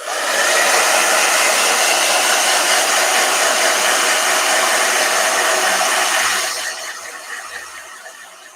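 A blow dryer runs with a loud, even whoosh and whine for about six seconds, then switches off and winds down into quiet, with a faint thump or two after.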